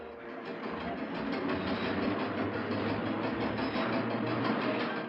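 A Key System train runs along its rails toward the Bay Bridge, giving a steady, continuous rumble with faint rhythmic clatter throughout and no voices.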